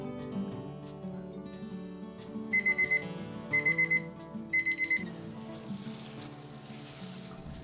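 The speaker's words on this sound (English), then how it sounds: "Now set your timer for 10 minutes." A kitchen timer alarm rings in three quick bursts of repeated high beeps over soft background music, then falls silent, with no voices.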